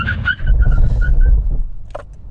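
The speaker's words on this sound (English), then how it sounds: "Okay, brake test in the R33 from 60 miles an hour." A Nissan Skyline GT-R R33 brakes hard from 60 mph with a loud, close road rumble and a thin, wavering tyre squeal that fades as the car slows.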